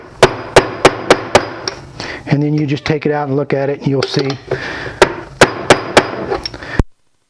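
A rubber hammer taps out sharp, evenly spaced knocks while fitting a Mazda CX-9 water pump and timing chain, pauses while someone talks, then resumes with another run of crisp taps.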